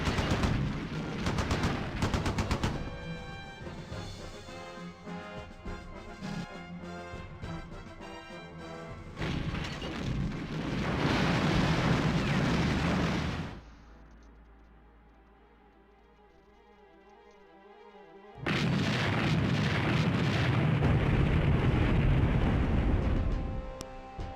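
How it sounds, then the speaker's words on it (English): Artillery fire in a war video game set during the opening of Operation Barbarossa, dense rumbling barrages and rapid gunfire bursts that drop away to a quieter lull before another loud sustained volley. "More artillery."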